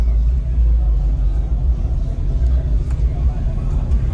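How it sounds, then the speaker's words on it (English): A truck engine idles with a heavy, steady low rumble, close by, with faint voices in the background. "I gotta turn the truck on."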